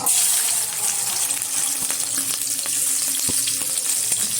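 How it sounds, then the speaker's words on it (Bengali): Washed prawns dropped into hot oil fry with a loud, bubbly sizzle and steady crackling, with scattered sharp pops and a utensil tap, close and without talk. "তেলটা গরম হয়ে গেছে তেলের মধ্যে এখন দিয়ে দেবো ধুয়ে রাখা কিছুটা চিংড়ি মাছ"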